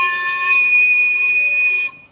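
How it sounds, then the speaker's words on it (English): A low-pressure steam whistle on a full-size 1870s locomotive replica, blowing on about 5 pounds of steam, holds one steady, loud, bright multi-tone blast for nearly two seconds before cutting off abruptly. "That's a low pressure whistle, so it'll work at low pressures."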